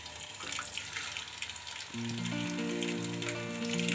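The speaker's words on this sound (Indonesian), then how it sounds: "Kita goreng kentangnya, kita masukkan ke dalam kompor satu-satu teman-teman, ke dalam minyak panas" Potato pieces drop into hot oil for chicken katsu, and a soft watery crackle jumps into a louder, steady sizzle about halfway through and keeps bubbling on its own.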